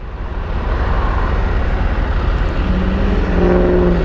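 A KTM 890 Adventure R parallel-twin idles steadily in hot-weather traffic, a low continuous rumble close by with faint surrounding road noise.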